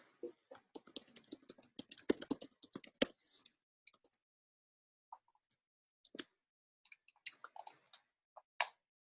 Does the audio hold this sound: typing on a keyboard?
yes